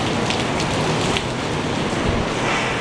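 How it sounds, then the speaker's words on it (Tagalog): Heavy rain pours steadily during a storm, a loud, dense, continuous hiss of drops drumming on surfaces close by, with no voices. "Kasi naman ang ulan, oh."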